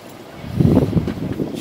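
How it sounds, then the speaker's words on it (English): Wind buffets the microphone in uneven low gusts, rising and falling over a couple of seconds, fairly close and rough. "It's kind of windy."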